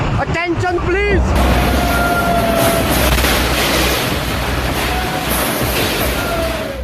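Roaring floodwater surges in a dense, continuous broadband rush after the Malana dam burst in the Himachal mountains, loud and close throughout, with a voice crying out briefly at the start.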